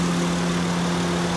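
Steady idle of the 3.5-liter i-VTEC V6 in a 2015 Honda Odyssey EX-L van, a close, even hum with a constant low drone and no change in pace, heard alone.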